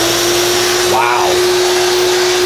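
A vacuum pulling air through the dust extraction hose on a Milwaukee M18 Fuel cordless router, a steady loud rushing hum with a steady tone, briefly shifting as air flow changes midway; a voice speaks over it.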